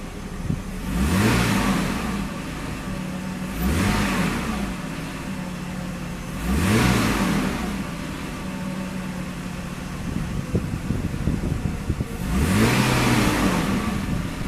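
Mercedes E320 engine blipped with the throttle while parked, three or four rising revs from idle that swell and fade back, close and fairly loud, with a steady idle hum between them.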